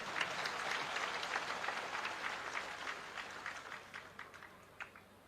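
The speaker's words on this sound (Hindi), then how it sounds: "अब ताली उली जोर से बजाओ" Audience applause at a religious fair and gathering in Lolesara, Bemetara, Chhattisgarh, a dense burst of many hands clapping that gradually thins and fades over about five seconds, heard alone.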